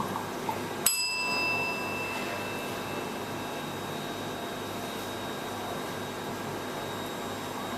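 A single bell strike rings out clearly near one second, then its bright tone slowly decays and fades into a steady background hiss over several seconds, with no talking.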